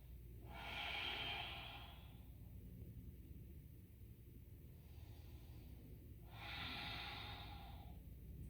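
Two slow, deep breaths through the nose during a forward-folded yoga hip stretch, each a soft airy inhale and exhale, close and quiet against faint room noise.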